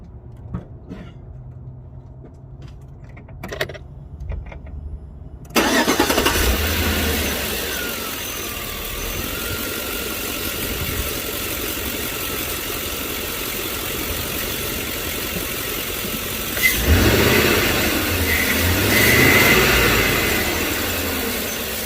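A 2005 Chevy Tahoe, just fixed for a vacuum leak, cranks and starts after a quiet stretch, then settles into a steady, close idle with a slight swell partway through.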